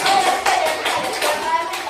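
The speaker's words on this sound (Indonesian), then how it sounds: "Tepuk tangan dulu untuk kelompok 1." Students in a classroom training session clap for a group of classmates, a short run of brisk, uneven hand claps lasting about two seconds, with voices mixed in.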